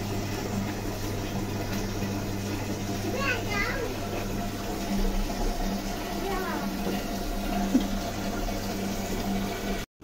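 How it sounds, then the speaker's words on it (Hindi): Water runs steadily from a tap as a container fills in a home, a continuous rushing wash under the nearby chatter of children. "अभी पानी भर रही हूँ"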